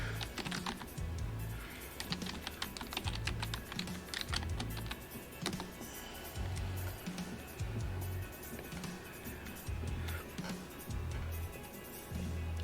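Rapid typing on a computer keyboard during an online game session, a dense stream of close, crisp key clicks with bursts and brief pauses, steady and moderately loud throughout.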